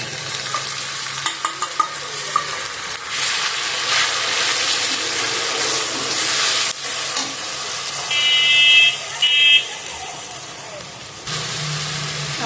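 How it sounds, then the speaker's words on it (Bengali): Spice pastes of ginger, garlic, onion, turmeric, chili and cumin with salt fry and get stirred in a pan, a steady broad sizzle with occasional scraping, joined by brief high tones and background noise. "আমার মশলা কষানো হয়ে গিয়েছে"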